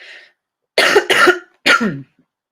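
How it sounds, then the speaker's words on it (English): Three coughs, the first soft and the next two harsh and close together, with brief silence between them. "Just when start talking, start coughing"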